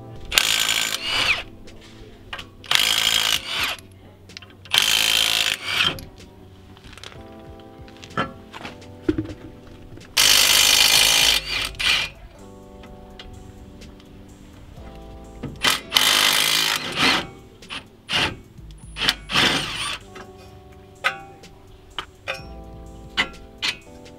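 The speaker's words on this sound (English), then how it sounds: "that's where we're gonna clamp down the spring so that we can take the top shock mount off" Car shock absorber spring being clamped down in a spring compressor while the top shock mount is replaced. Repeated loud bursts of ratcheting and metallic clanking come up close, separated by short pauses and quieter clicks.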